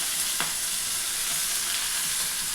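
Coriander and cumin seeds fry in hot oil, a dense steady sizzle with a few faint pops, close and continuous, no talking.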